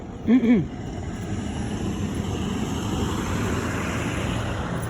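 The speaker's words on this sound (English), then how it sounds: "Hold on, it's a loud truck." A loud truck rumbles past nearby, a steady broadband roar of road noise after a brief voice at the start.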